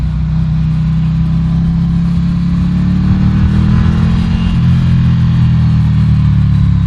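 Engine of a Ducati Scrambler Café Racer motorcycle, a 75 hp special-edition Scrambler, running with a steady deep low rumble that swells into a rev midway, then settles, loud and close throughout.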